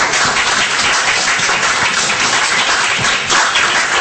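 An audience applauds after a talk about an AIDS cure, a dense, loud and even burst of clapping from many people that carries on without a break.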